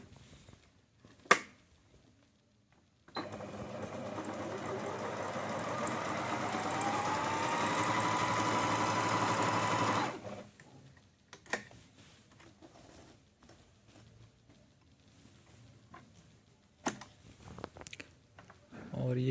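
Singer Minx sewing machine running one continuous stretch of stitching, motor rising then holding steady before stopping, with sparse clicks and handling noises around it.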